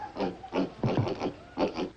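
Pigs grunt and oink in a series of short, close bursts in a farm setting, with brief pauses between the calls.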